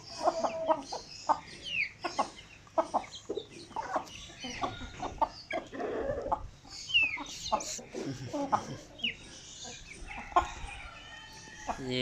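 Chickens cluck close by: desi hens and young birds give short bursts of clucks and squawks in an irregular rhythm, with someone speaking in between.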